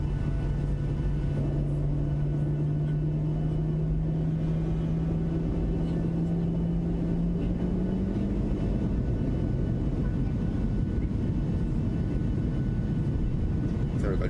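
Jet engines of a PMDG 737-600 in a flight simulator drone steadily, a low tone gliding slowly upward as they spool up, with a constant rumble throughout.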